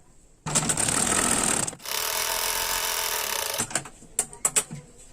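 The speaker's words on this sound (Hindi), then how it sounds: "ऐसे रखकर हम सिलाई लगाएंगे।" A sewing machine stitching the waistband strip of a half-collar blouse runs in two long loud bursts of rapid mechanical whirring, then a few short stop-start stitches close by.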